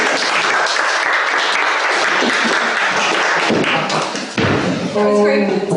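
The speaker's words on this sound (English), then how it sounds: "A round of applause for Belinda, everybody." A crowd applauds loudly and continuously, a dense wash of clapping up close, tapering briefly near the end before a voice cuts in.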